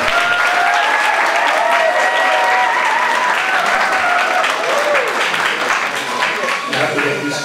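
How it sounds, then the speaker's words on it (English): Audience applause at an evening event in London with a speech by Ambassador Enrique Manalo, a dense steady wash of clapping that holds for the whole stretch, with a few voices and whistle-like tones threaded faintly through it. "an applause to them"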